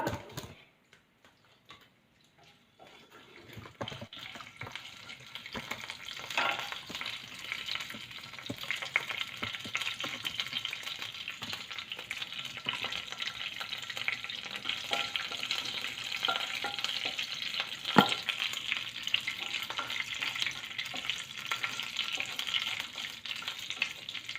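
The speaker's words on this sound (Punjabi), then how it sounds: "ਰਾਈ ਥੋੜੀ ਮੈਂ ਜ਼ਿਆਦਾ ਹੀ ਪਾਵਾਂਗੀ ਇਹਨਾਂ ਨੂੰ ਆਪਾਂ ਭੁੰਨ ਲਾਂਗੇ ਥੋੜਾ" Mustard seeds roast in a pan for a savoury mathri dough. After a quiet opening moment, a steady, fairly soft sizzle sets in and carries on with small crackles and pops throughout.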